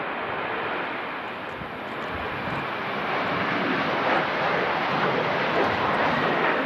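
Aircraft engines roar steadily and loudly at Manchester Airport during strong winds from Storm Darragh, a broad, continuous rushing drone with no talk over it.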